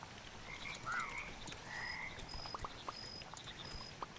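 Frogs croak in the cute frog-management game Mudborne, a few short chirping and warbling calls alongside light pattering ambience and small ticking clicks, fairly quiet with no voices.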